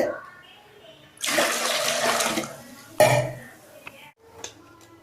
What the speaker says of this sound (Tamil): இப்போ குக்கரில் தண்ணி ஊற்றிக்கலாம்